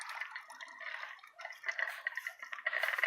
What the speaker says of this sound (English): joins the water overflow coming from the spring box itself